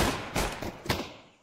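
Counter-Strike gunfire during a competitive esports match: a few sharp, separate shots crack out and then die away into quiet, with no voices.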